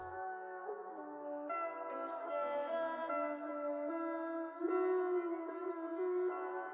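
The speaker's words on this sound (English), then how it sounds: "these two little vocal loops that I took from the Angelic Vibes Love Letter sample pack" Two layered, sustained pitched vocal loops from the Angelic Vibes Love Letter sample pack play together in a steady phrase, with a brief bright accent partway through and no speech.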